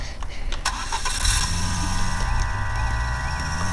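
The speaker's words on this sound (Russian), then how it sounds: "мотор, заводись, заводись" A VAZ car engine being started: the starter cranks, the engine catches, then it settles into a loud, steady idle close by. Someone talks over it.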